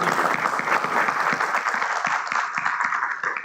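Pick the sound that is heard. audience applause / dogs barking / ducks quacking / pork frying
audience applause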